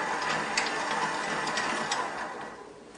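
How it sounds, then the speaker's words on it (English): A KitchenAid KSMC895ER commercial stand mixer runs on speed one, giving a steady mechanical whir with faint rhythmic clicking of gears, close by and gradually fading slightly toward the end. "I'll just give it a little spin, number one, and just listen to the magic of that mixer"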